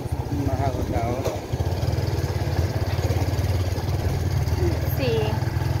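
A motorcycle engine runs steadily while riding along on a sunny road trip home, a constant low rumbling throb beneath people talking.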